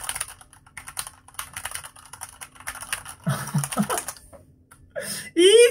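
Fingers tap quickly on a compact Corsair K65 Mini keyboard with Cherry MX Silver linear switches, a light patter of keystrokes close by, broken up by brief talk and laughter.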